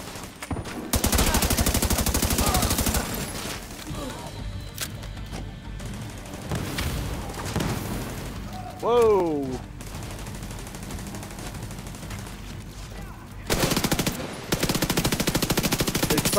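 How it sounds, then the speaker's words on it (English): An automated turret fires in The Division 2 during a firefight, its sustained rapid bursts loud and dense, broken by a brief lull and a short rising mechanical whine before heavy firing resumes near the end. "My turret just started going."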